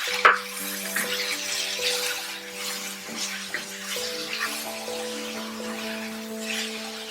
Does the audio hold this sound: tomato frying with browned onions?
yes